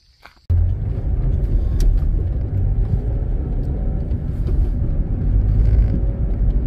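A car drives along gravel roads near Hillman State Park in Hanover Township, PA, giving a steady close rumble of tires and engine that starts abruptly and continues without talk.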